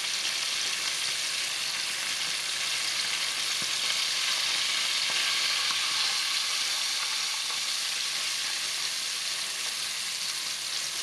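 Steady, close sizzling and crackling of fish frying in hot oil, a continuous hiss with no speech.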